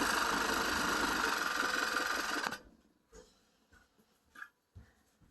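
A sewing machine stitches dress seams in a fast, steady whir for about two and a half seconds, then stops, leaving a few faint scattered clicks and fabric handling sounds.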